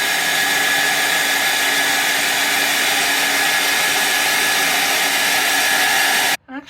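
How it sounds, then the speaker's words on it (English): A hair dryer blows steadily and loudly on wet Posca paint, a constant broadband whoosh that runs without a break for about six seconds before it cuts off abruptly. "so I'm gonna use the hair dryer again"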